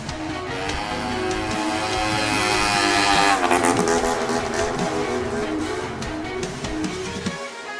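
A motorcycle revs and pulls away, its engine note climbing in pitch around the middle and then easing off, loud and steady throughout with no talking.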